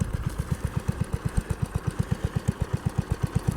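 Small Ford or Massey Ferguson garden tractor engine idling with a fast, even chugging beat, loud and close, steady throughout with no voices.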